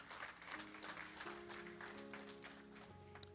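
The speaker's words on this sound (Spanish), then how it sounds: "Dele ese aplauso al Rey que vive." Applause rises from a congregation at a church service, a dense steady clatter of many hands lasting a few seconds, with musical tones from instruments sustained underneath.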